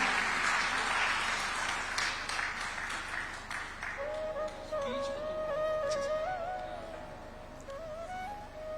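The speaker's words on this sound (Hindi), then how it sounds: "हम तालियों की गड़गड़ाहट को न रोकें" Audience applause at a Shri Krishna event in India, dense clapping that fills the first four seconds and then fades under a sustained musical tone and melody that carries to the end.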